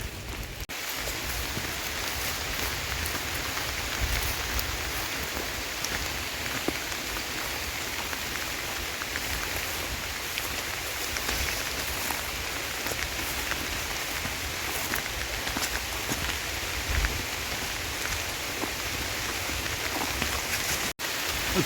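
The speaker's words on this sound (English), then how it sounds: "the rain's gotten to the point where I really have to set up shelter now. It's coming down pretty heavy" Heavy rain pours down outdoors in a dense, continuous hiss with scattered drops pattering nearby, steady and loud for the whole stretch with no voices.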